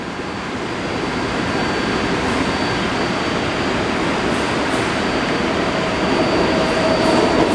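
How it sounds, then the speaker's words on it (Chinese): A Taipei Metro 381-type train, running an early-morning extra service toward Beitou, rolls into the platform with a steady, loud rumble of wheels and motors that swells slightly near the end. "第1月台应该是早上加班车往北投的即将到站"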